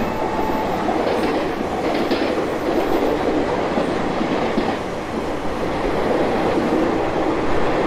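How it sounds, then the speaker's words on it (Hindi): Superfast express hauled by a Ghaziabad WAP-7 style W21 electric locomotive in the Open Rails train simulator, a steady loud rumble of wheels with rhythmic clickety-clack over rail joints, continuous and close. "ये 1214 Hazrat Nizamuddin CSMT Kolhapur superfast express with Ghaziabad W21 locomotive."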